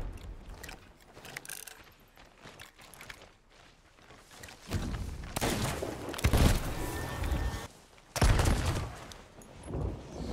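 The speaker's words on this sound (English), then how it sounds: "Wait for the explosion." A sudden loud explosive burst in the pirate video game Sea of Thieves, followed by another heavy blast, with rumbling water and ship sounds between them.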